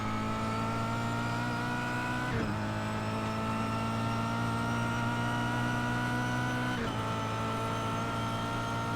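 A Kia Cup race car accelerates hard around the Imola circuit, its engine a loud, steady, high-pitched onboard drone broken by two quick gear-change dips.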